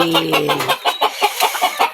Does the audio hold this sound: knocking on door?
no